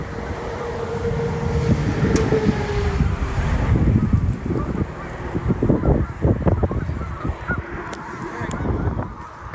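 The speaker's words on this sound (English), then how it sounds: "We've officially found the Barnacle Goose" Barnacle goose honks on Prince Edward Island come in a long run of repeated calls, blending into a busy outdoor scene with wind buffeting the microphone throughout.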